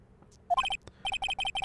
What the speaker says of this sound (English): Why is that your ringtone, Phoenix?